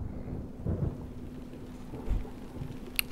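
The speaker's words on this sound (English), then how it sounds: "It's starting to rain!" Rain and thunder in the Xenosaga video game, with steady rainfall hissing throughout and low rumbles of thunder swelling twice, a constant hum underneath and a brief sharp crack at the very end.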